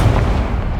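A fire spell blast in the game Hogwarts Legacy, a single loud, deep booming burst that rumbles briefly and fades within a second.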